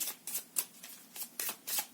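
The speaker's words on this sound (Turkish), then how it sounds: "Önce iskambil kartlarımdan desteler oluşturayım." A deck of playing cards is shuffled in several quick riffling bursts, close and soft, with no voices.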